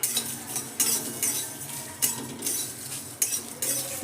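Dried red chillies fry in a pan of spices at home. A steady low sizzle sits under repeated metallic clinks and scrapes from a spatula or spoon stirring against the pan at roughly half-second intervals.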